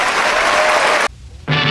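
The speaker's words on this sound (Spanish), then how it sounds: "¡Aplausos!" Loud applause fills a legislative chamber, breaks off abruptly for a moment, then resumes just as strongly.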